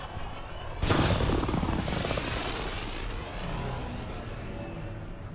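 A spaceship touching down in the video game Mass Effect Andromeda, a loud roaring rush that bursts in abruptly after a quiet start, then holds as a broad, steady engine wash that slowly eases.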